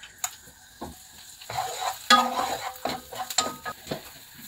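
Onions frying in butter in a pan, a light sizzle punctuated by sharp utensil clinks and scraping stirs at irregular intervals, fairly quiet and close with no talking.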